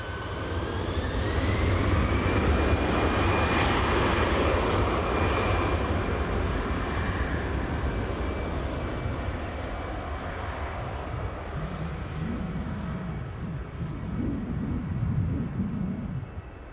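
A TUI-operated Titan Airways jet at Newcastle airport roars loudly and steadily throughout, a broad engine rumble with a rising whine that slowly eases off toward the end.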